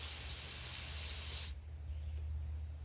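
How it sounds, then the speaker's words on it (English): Parts Master wasp spray bursts from an aerosol can in one continuous, loud, close hiss lasting about a second and a half, then cuts off abruptly, leaving quiet background. "Parts Master wasp relocation spray"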